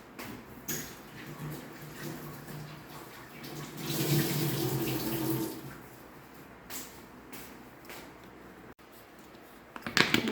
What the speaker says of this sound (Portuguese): Deixa eu lavar o paninho aqui.